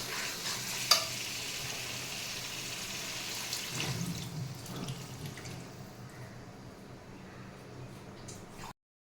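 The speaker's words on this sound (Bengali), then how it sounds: "এবার এর মধ্যে দেব জল" Water is poured into sautéed masala for soybean kofta, and a loud, close sizzle and bubbling follow. The sound fades to a softer simmer and then cuts out near the end. No one speaks.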